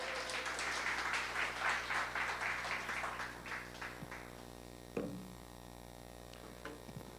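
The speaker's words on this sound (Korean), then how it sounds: "우리 지훈이 나올 때 큰 박수 해주시기 바랍니다" A church youth congregation claps for a high school student at a discipleship training graduation service, a moderate round of applause that thins out and fades after a few seconds over a steady mains hum.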